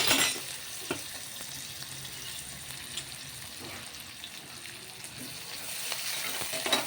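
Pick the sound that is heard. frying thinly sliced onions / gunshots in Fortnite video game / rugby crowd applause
frying thinly sliced onions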